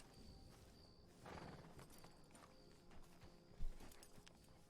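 Faint horse hooves clip-clop at a walking pace in a Western video game, with quiet ambient background throughout.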